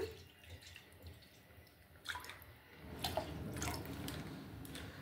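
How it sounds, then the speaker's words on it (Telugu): Water poured into a pot to start a jaggery rice pudding (paramannam): a faint, steady splashing wash that swells after the first two seconds, with no voices. "ముందుగా ఒక గిన్నెలో కొన్ని వాటర్ వేసుకుందాం."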